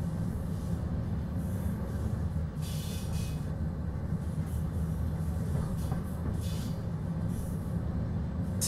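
CFR Class 47 locomotive pulling a train into a station in Train Simulator Classic, a steady low rumble of rolling wheels and engine with faint rail clicks and brief hissing bursts, no voices.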